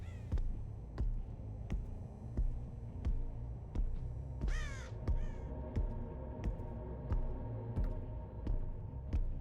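Crows caw briefly in the video game Dead by Daylight, a short burst in the middle of a steady, throbbing low ambient pulse with regular soft knocks.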